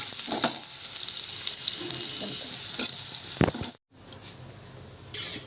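Vegetables roast in hot oil in a pan for a vegetable kurma, giving a steady close sizzle broken by a few stirring scrapes and a short pause.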